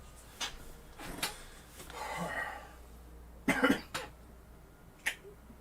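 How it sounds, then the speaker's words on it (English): A few short, dry coughs come in bursts, close by, with quiet pauses between them and a faint rustle in the background. "Old mini cough."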